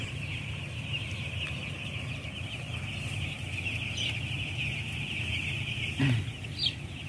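A flock of broiler chickens clucks steadily inside a closed-house poultry barn at night, a dense continuous murmur with a few louder calls near the end, over a constant high ventilation hum.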